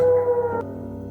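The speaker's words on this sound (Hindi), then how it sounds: "जैसे ही रात के 12 बजे अचानक ही कुत्तों के रोने की आवाज़ें आने लगी" A dog's long, mournful howl sustains at one steady pitch before breaking off, set as a nighttime horror-story effect in a haunted village, loud and close with a low hum underneath.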